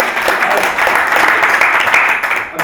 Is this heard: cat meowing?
no